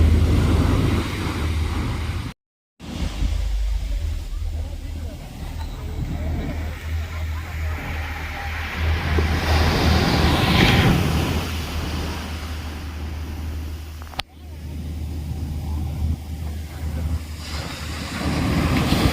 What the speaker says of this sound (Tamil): இந்த அலை அடிக்கிறது செம்மையாக இருக்குங்க.